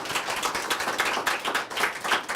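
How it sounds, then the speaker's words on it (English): A brief, light round of audience clapping at the close of an executive summit Q&A session, fairly soft and slightly uneven, with no talking. "Give it one more round of applause for Rayan Azab."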